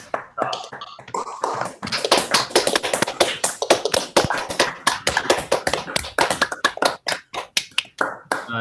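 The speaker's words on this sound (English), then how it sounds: "join me in applause" Online participants at a mathematics lecture on large deviations in random matrix theory unmute and applaud, producing close, uneven claps and taps from several microphones, loud and irregular with no talk.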